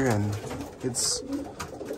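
White grizzle racing pigeons cooing inside their loft, soft low coos under someone talking close by, with a brief hiss and some faint rustling.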